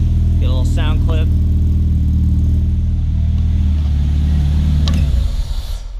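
A K20-swapped Honda Civic EG with a bad fuel leak idles loudly and close, its steady low engine drone carrying on until it shuts off near the end, with brief voices over it early.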